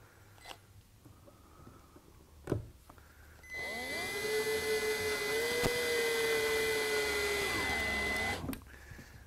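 Slot-head wood screws being driven into a wooden Shaker stool with a powered driver: a steady, fairly loud motor whine holds for about five seconds, with faint knocks before and after.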